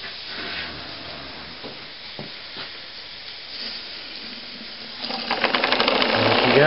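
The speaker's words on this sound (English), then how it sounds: "So we're going to steam the Jensen model 20G." A Jensen model 20G toy steam engine runs with its safety valve lifting, giving a steady hiss that turns into a faster, louder rhythmic chuffing and rattling toward the end.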